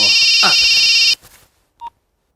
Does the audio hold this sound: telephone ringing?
yes